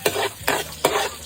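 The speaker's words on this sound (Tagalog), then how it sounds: "Papainitin lang natin yung ating mantika at isusunod natin yung ating mga ricado." Onion sautés in hot oil in a pan, stirred in three quick strokes that each bring a burst of loud crackling sizzle over a steady background fry.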